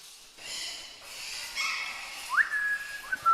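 An exotic bird on a farm whistles in a few thin, high tones, including a short rising slide and a held note, close by over a quiet background with faint breathy noises.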